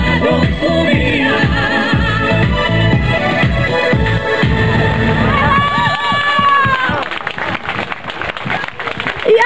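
A large audience cheers and applauds at a live Bulgarian folk-pop concert, a loud wash of shouting and clapping that builds around a singer's voice and music.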